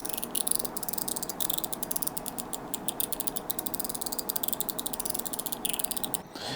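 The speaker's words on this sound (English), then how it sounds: "So this is the sound of the 3 glass balls." Dense, rapid clicking and light ticking of three glass balls rattling in a GDEDC Gladiator 2.0 slider fidget toy, continuous and fairly faint, with a brief pause near the end.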